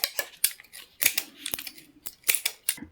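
Scissors snip around an epoxy resin octopus shaker mold, a close series of short crisp cuts in an irregular rhythm with brief pauses, no voices.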